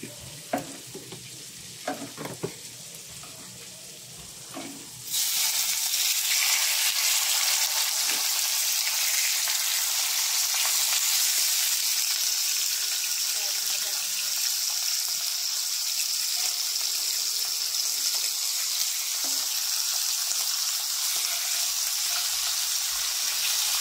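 Pork steak frying in a Teflon pan and stirred with a wooden ladle, a loud, steady sizzle that bursts in after a few seconds of quieter scraping and clatter and then holds without letup.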